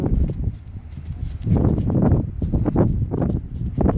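Steady hoofbeats of a mare walking under saddle, a loose rhythmic clip-clop close by with some rustling, no talking.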